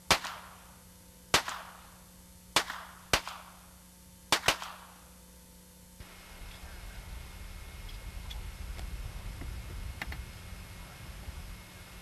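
Rifle shots at a 1989 shooting competition held during sports events at Garezers, with five sharp, isolated cracks over six seconds, two in quick succession, followed by quieter rumbling background.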